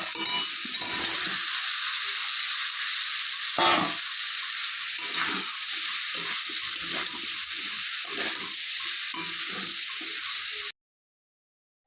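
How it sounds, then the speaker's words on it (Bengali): Fried pointed gourd and potato being stir-fried into a masala in a pan, with a loud, continuous sizzle broken by stirring scrapes for about eleven seconds before cutting to silence. "মশলাটা প্রায় কষানো হয়ে গেছে এর মধ্যে দিয়ে দিব ভেজে রাখা পটল আলু"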